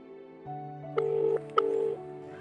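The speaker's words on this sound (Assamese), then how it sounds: "তই এতিয়া ফোন এটা কৰিছাচোন।" A phone call is dialed: a steady low tone runs under two short bright beeps, close by and fairly quiet, with no speech.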